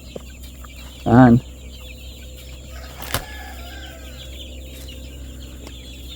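Chickens at a backyard chicken breeder's coop, with one loud, brief squawking call rising near the start over a low steady background hum, then quiet.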